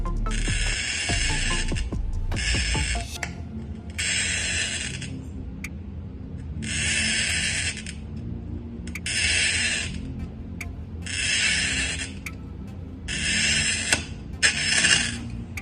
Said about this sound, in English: I'm working with a Home Pro Shop cutter, and this part is the cutter right here. I'm going to begin by scoring it.